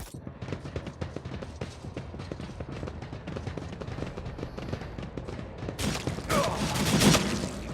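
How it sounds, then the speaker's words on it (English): Bolter gunfire and a grenade blast in Warhammer 40000: Rogue Trader, a rapid run of loud shots that continues throughout, ending in a bigger explosive burst near the close. "But we got a bolter and a grenade."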